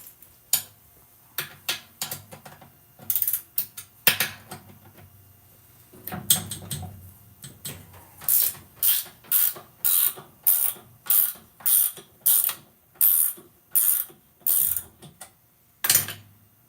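A 9/16 ratchet wrench works a bolt on an antique washing machine during a belt change. Sharp, close ratcheting clicks come in bursts, first irregular, then a steady, even run of loud ratchet strokes.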